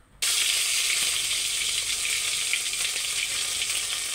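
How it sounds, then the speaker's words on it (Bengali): Ground spice paste hits hot mustard oil with a sudden burst, then keeps frying in a loud, even, close sizzle without any talk. "তেলের মধ্যে সমস্ত বাটা মশলাগুলো দিয়ে দিলাম"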